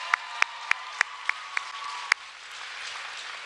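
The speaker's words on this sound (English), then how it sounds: "Let's give another round of applause for this incredible cheerleading team," An audience applauds a cheerleading team at an education fundraising announcement. A few sharp, distinct claps stand out over a thin, wide wash of clapping that fades gradually.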